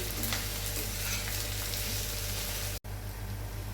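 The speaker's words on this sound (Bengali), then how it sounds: "পেঁয়াজটা গ্লসি হবে, একদম লাল ভাজবো না খুব একটা, একটু রং করবে।" Onions frying steadily in a pan for prawn pilaf, a dense continuous sizzle with a brief dropout near the end, close and alone with no talk.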